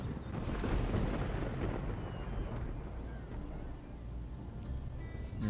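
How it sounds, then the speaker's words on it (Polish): Rain and thunder from a storm in the video game Risen 2: a low rumbling roll swells early, then eases into a steady hiss of rainfall, moderately quiet and continuous. "Ta pogoda mnie wnerwia, bo ciągle pada, ciągle jest burza"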